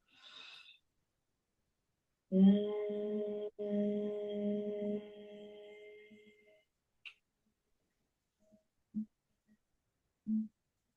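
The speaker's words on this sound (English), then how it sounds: "as you exhale out, you are sounding out like a humming sound, like this" A sustained hummed tone on a long exhale during a yoga and meditation session, steady and soft for several seconds, followed by a few faint breaths and small clicks in a quiet room.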